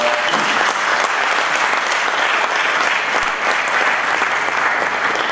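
Auditorium audience at the ICAP National Finance Olympiad gives a big round of applause for the Unilever Pakistan team, dense and even clapping sustained throughout with no talk over it.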